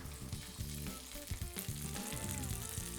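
Hunters sausages searing in an oiled pan give a steady, dense sizzle and crackle, with faint scrapes scattered through it.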